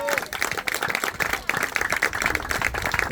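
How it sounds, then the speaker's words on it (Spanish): A church congregation breaks into loud, continuous applause that fills the room, dense clapping running the whole time with a crowd murmur beneath it. "Dale un fuerte aplauso a Jesucristo"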